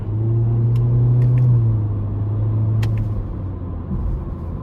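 A 2023 Honda Civic Sport Hatchback with a 2.0 engine and CVT runs under paddle shifting, giving a steady low engine drone that rises slightly and then settles, with a few faint clicks from the cabin.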